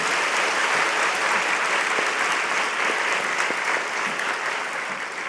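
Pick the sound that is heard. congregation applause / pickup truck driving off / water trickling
congregation applause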